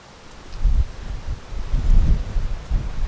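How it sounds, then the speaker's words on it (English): Gusty outdoor wind in a garden where seed potatoes are being planted, low rumbling buffets that swell and fade in waves, loud and close against the microphone with no talk. "It's windy."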